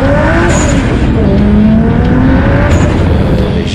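A Toyota Supra drift car with a 1JZ engine screams past at a French drift championship, loud and sustained, with the engine note wavering under throttle and tire squeal mixed in.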